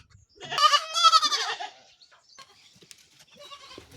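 Goats and young goat kids bleating in a pen, with one loud, wavering bleat up close followed by fainter, scattered calls and shuffling.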